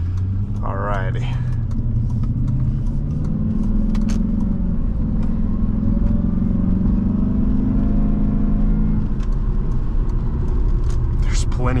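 2003 Jaguar S-Type R engine while driving, a steady low rumble and drone heard from inside the cabin, with a voice talking over it.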